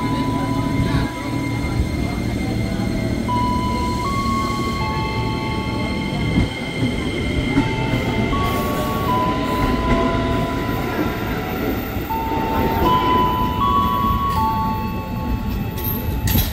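A KRL Commuter Line electric train runs at Cicayur station, a loud steady rumble of wheels and motors with tonal whines and squeals rising and falling throughout, while station announcements and voices sound faintly beneath.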